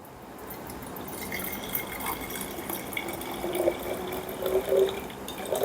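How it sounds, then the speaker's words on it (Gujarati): Water poured into a glass conical flask for a school chemistry experiment, a soft trickling fill that grows louder with small gurgles and splashes toward the end, close and quiet. "પહેલાં પાણી લઈ લઈએ આપણે કોનિકલ ફ્લાસ્કમાં"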